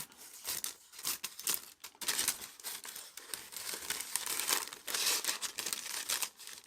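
Paper is cut by hand around a piece for a mixed media collage, giving faint, close crinkling and snipping with irregular bursts of rustle and crumple, no voices.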